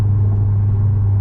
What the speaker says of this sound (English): that's pretty much the interior sound of the car